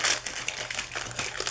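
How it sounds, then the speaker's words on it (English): Foil wrapper of a 1990 Hoops basketball card pack being torn open, a short burst of close crinkling and crackling, alone without talk. "Be careful opening these cards as well."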